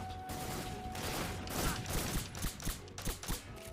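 Enemy gunfire in Metal Gear Solid 3 rattles in quick bursts of sharp shots, growing into a rapid rhythmic volley toward the end, no talk.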